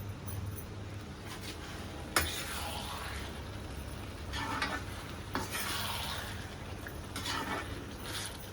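Karela bhaji being stir-fried in a kadhai to dry out its gravy, a quiet steady sizzle with repeated scraping strokes of a spatula and a sharp clank against the pan, no talking.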